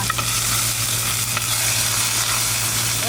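Tomatoes frying in ghee in a village kitchen pan, a steady close sizzle with faint stirring scrapes running continuously throughout.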